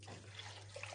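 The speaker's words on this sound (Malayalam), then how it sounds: "വേവിക്കാൻ ആവശ്യത്തിന് വെള്ളം ഒഴിച്ചു കൊടുക്കാം" Water runs steadily into a cooking pot of sweet potatoes for boiling, a soft continuous splashing pour with a low hum underneath.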